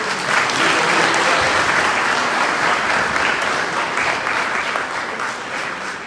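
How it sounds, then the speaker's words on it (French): Congregation at a Sunday Mass in a church applauding for a child, dense continuous clapping filling the room for about six seconds before slowly easing off. "applaudissez un peu pour Céleste"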